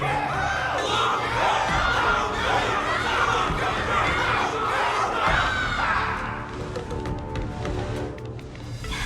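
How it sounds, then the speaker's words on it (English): A large crowd cheers and shouts loudly and continuously at a battle event in a fantasy video game, the roar dipping slightly near the end, with no talk over it. "Can't you hear? Everyone's cheering for you, Luka!"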